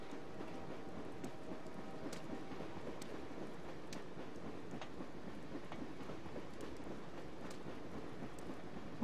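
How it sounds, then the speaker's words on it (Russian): A train rolls past in the video game Dreamfall: The Longest Journey, a faint, steady rumble with soft rhythmic clacks running throughout. "Ой, поезд, давай ты долго будешь"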